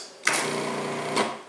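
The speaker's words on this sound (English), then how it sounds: "I like using the food processor because it's so fast. Just going to give this a quick mix." A food processor whirs into a quick mix of pie dough ingredients such as salt, a close, steady motor drone with a sharp start, running about a second before a brief rise as it stops.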